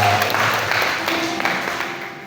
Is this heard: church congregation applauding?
yes